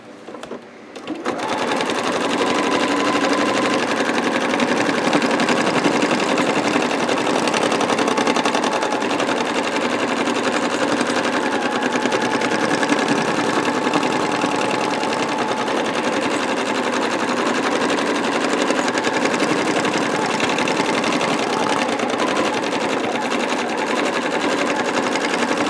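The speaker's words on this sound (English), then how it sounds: "I had to take out some of the sewing of this zigzag" A sewing machine runs continuously, stitching a zigzag thread painting of a beach landscape, its steady whirring motor loud and close for the whole stretch without pause.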